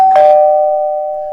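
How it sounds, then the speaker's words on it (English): A single doorbell chime rings out loud and close, its clear tone sustaining and slowly fading away with no other sounds. "Someone rang my doorbell."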